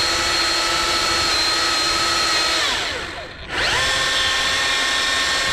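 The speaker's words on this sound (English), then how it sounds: "So that's the problem with a lot of these pole saws, is you don't have the chain speed to get a good finish cut." Milwaukee pole saw whines at high speed through a tree branch, its pitch dipping sharply as the chain bogs in the cut and then recovering to a steady scream.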